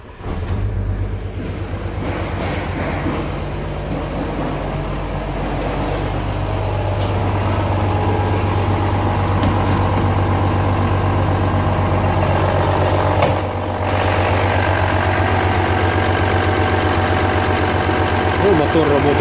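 An Opel Vectra C 1.9 CDTI diesel wagon is started from cold. It fires within the first second, then settles into a steady, close, rumbling idle that holds evenly for the rest of the clip.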